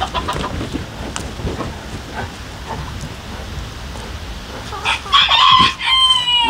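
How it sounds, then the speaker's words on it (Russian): A flock of nine hens and several roosters being let out of their coop at a forest homestead, with loud clucking throughout and a rooster crowing near the end, over a light patter like rain. "Выпускаем наших курочек. Всего лишь 9 курочек."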